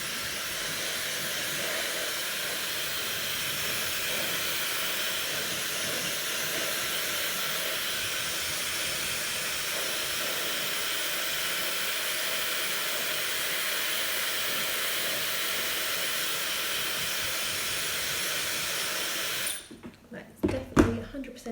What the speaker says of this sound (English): I'm going to use the hairdryer and just blow dry down